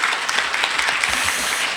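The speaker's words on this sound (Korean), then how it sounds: "다시 한번 뜨거운 박수 부탁드립니다" An audience bursts into loud, dense applause at the close of a Trend Korea 2021 co-author guest lecture, with many hands clapping at once in a continuous roar throughout.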